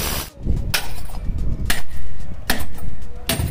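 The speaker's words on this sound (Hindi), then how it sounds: "सीधा इसमें जब मारा ढंग से हथौड़े तब जाके इसमें छेद हो गया" A hammer strikes a metal bowl to punch holes for a homemade hookah: four or five sharp, loud metallic impacts spaced about a second apart, each ringing briefly, close up over a noisy background.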